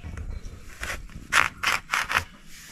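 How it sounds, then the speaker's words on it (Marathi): An ash gourd (kohla) being cut with a knife in a home kitchen, several short rasping slicing strokes in quick succession, close and fairly quiet. "आता आपण कोहळा कापून घेऊया."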